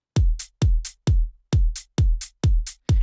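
A hi-hat sample pitched up five semitones gives a small, crisp tick in the gaps of a steady, looping beat of seven heavy kick thumps, clean and close, with no talking.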